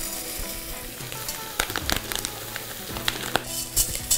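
Rice hitting a hot pan of sweated onions and garlic for a spinach risotto, sharp sizzling and frying crackle with stirring scrapes, close and alone.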